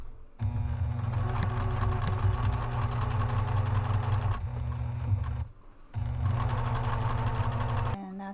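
A sewing machine runs steadily, stitching two rows down zipper panels on a messenger bag's zipper top closure, with a short pause partway through before the loud, close motor hum resumes.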